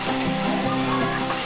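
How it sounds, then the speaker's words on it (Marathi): Red chilli paste drops into hot oil tempering with curry leaves for a Malvani pomfret curry, giving a steady close sizzle and hiss over a brief moment, with a faint voice murmuring underneath. "आता आपण जे मिरचीचे वाटण आहे ते घालून घेऊया."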